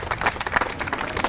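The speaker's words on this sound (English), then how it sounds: "I want to give you guys a big round of applause for the work that" A brief burst of applause from a small group at a city news conference with the mayor of Albuquerque, clapping in quick, uneven bursts at moderate volume.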